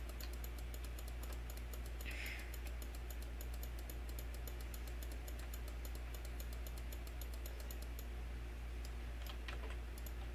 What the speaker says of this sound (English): this video is going to have a lot of clicking